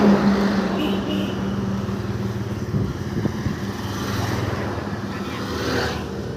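A motor vehicle with registration JJ 944 passes at night on a road, a steady close engine drone with low rumble that swells slightly and fades, no speech.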